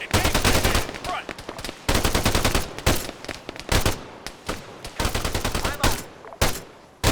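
Rapid automatic gunfire in the video game Arma 3 during a bootcamp firefight, loud bursts of shots broken by short pauses, with a few single cracks near the end and a brief spoken line over the shooting.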